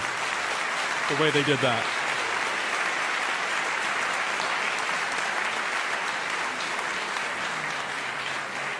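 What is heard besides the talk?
applause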